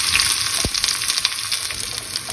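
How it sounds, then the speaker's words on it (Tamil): Steady, dense sizzling of onions frying in hot oil with mustard seeds and urad dal, close and continuous, with a brief faint clink partway through. "எண்ணெய் சூடானதும் கடுகு உளுத்தம் பருப்பு போடுறேன். கடுகு வெடித்ததும் அதில் நறுக்கி வச்ச வெங்காயம் சேர்க்குறேன்."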